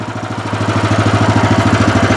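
A Motor Sich walk-behind tractor engine runs in first gear with a loud, close, rapid chugging beat, an even single-cylinder pulse with a low rumbling hum underneath, with no talking.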